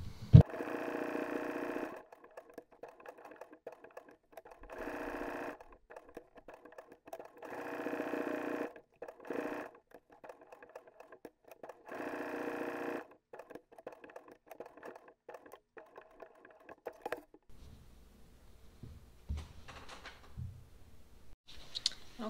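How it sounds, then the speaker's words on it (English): A sewing machine satin stitches around raw appliqué edges on a Halloween Frankenstein quilt block, running at a narrow 1.5 stitch width in several steady bursts with short pauses, then stopping near the end. "I've got them all finished satin stitching around all the raw edges"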